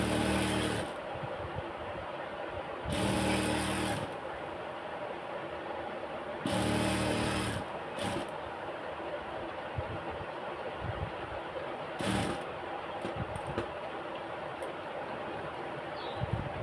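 A sewing machine stitches lace onto a pajama hem, running in short loud bursts separated by quieter pauses.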